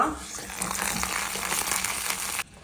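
Ghee tempering with mustard seeds and a little curry leaf sizzles steadily and fairly loud in a pan for a Konkani lemon saar, a dense crackling hiss that cuts off abruptly near the end.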